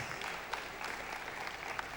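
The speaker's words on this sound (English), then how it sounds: "Atharv, big round of applause" Brief applause at an awards felicitation function, honouring a student named Atharva, a muffled, fairly faint patter of clapping from the audience, with a couple of sharper claps standing out.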